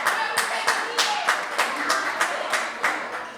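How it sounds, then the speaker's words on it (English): Audience clapping after a teenage dance performance at an Africa Day community celebration, a steady crowd applause of many hands with rhythmic peaks, fairly close and sustained throughout. "Applaudissons!"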